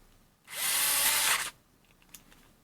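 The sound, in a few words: SKIL Twist 2.0 4V electric screwdriver running and stalling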